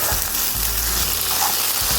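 Corn, okra and purslane fry in a hot pan with a steady, close sizzle, broken by a few low scraping thumps as the vegetables are folded together. No voices.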